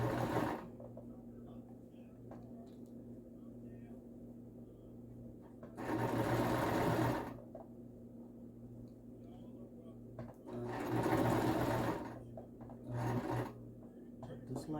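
A sewing machine stitching a special-needs face cover and neck shield runs in three short bursts, a close, steady whirring rattle between quiet pauses with a faint hum underneath.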